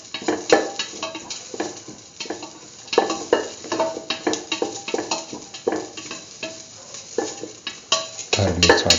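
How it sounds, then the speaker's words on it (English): Onions sauté in a pan while a utensil stirs them, giving a soft frying sizzle broken by repeated scraping and clinking strokes close by. "Keep on sauteing until the onions lose their reddish color."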